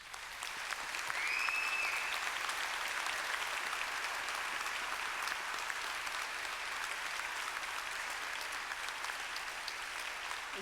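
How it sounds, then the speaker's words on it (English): Applause fills a hall at a Monash University graduation ceremony, a continuous, even wash of many hands clapping at moderate distance, sustained without break for about ten seconds, with a brief whistle-like tone early on. "round of applause."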